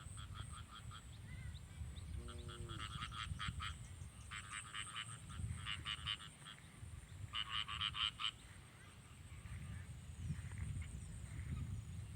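Frogs croak in repeated rhythmic bursts around a rice paddy in rural Thailand, layered over steady low field noise, with a faint voice briefly heard.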